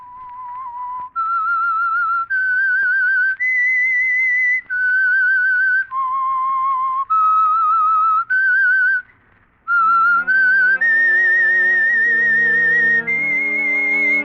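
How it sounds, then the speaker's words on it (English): A whistled melody of clear sustained notes sounds up close as the signal for the Signal Oil radio program The Whistler, its step-by-step tune later joined by an orchestral chord underneath. "That whistle is your signal for the Signal Oil Program"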